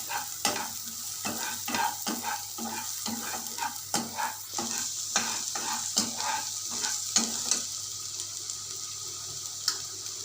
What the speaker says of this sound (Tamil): இந்த செவக்க வறுத்தா கிரேவி நல்லாயிருக்கும் வாசனை